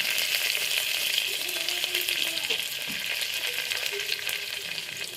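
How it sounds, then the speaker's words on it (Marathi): Garlic, curry leaves and green chillies fry in hot oil with cumin and mustard seeds for a toor dal tempering, giving a loud, steady, close sizzle that crackles continuously throughout with no voices. "आणि मी हे टाकणार आहे लसूण पण तळून घेणार आणि कढीपत्ता आणि हा मिरच्या"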